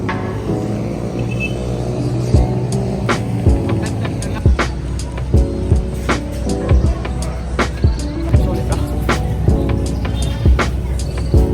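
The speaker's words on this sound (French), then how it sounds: "Donc on va prendre ce bus-là." A bus engine idles and rumbles at a bus station in Nicaragua, a low steady drone under repeated knocks, clatter and traffic noise, with no clear talking.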